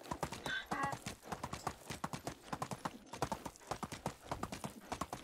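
A donkey trots along in the medieval game Medieval Dynasty, its hooves making a quick, even clip-clop that runs for the whole stretch, close and fairly loud.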